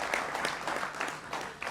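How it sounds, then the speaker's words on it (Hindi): Studio audience at a televised interview show clapping to welcome a guest, a short, fairly faint burst of scattered applause with uneven claps. "उनका भी अभिनंदन है जोरदार तालियों के साथ।"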